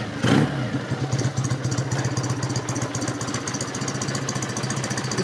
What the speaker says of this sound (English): There's no effort in kickstarting that bike at all.